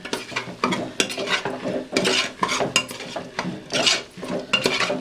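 A spoon stirs and sautés onion with mutton masala in a pan for beef biryani, giving close, rhythmic scraping and clattering strokes over a steady sizzle, with no talking.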